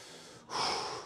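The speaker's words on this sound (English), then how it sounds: "I'll do a little bit of breathing." Heavy breathing between sets of an arm workout: a quiet exhale, a brief pause, then a louder, longer breath through the mouth, close and alone with no talk.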